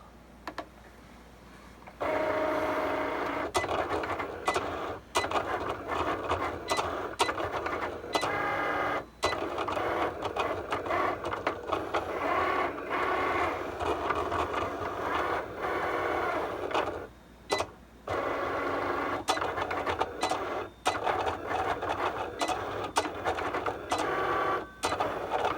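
A Cricut cutting machine slices 0.2 mm window cling at close range, a steady mechanical whir broken by frequent short clicks and pauses as the carriage shifts, continuous and alone with no talking.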